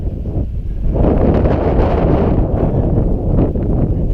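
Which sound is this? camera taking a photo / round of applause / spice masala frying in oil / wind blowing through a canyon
wind blowing through a canyon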